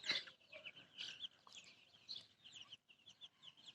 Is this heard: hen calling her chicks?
yes